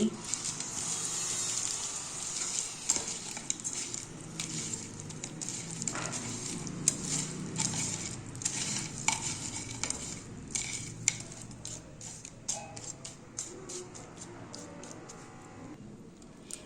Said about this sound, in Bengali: হলুদ গুঁড়ো শুকনো লঙ্কার গুঁড়ো আর দিয়ে দিচ্ছি সর্ষের তেল এবার মেখে নিচ্ছি